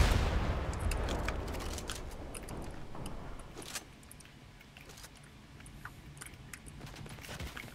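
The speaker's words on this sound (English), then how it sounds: "Oh, more rockets." Rockets fire and explode in a shooter video game, with a boom at the start and then scattered sharp blasts and crackling impacts that fade into quieter rumble.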